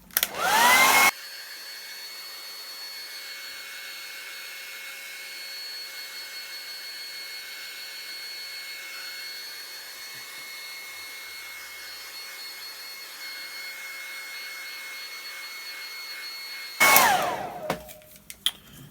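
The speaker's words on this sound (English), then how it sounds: "let's give that a quick dry with a hairdryer" A hairdryer blows steadily on acrylic paint on a canvas, a constant loud whirring hiss with a thin whine that runs for about fifteen seconds before clicking off, with handling noises at the start and end.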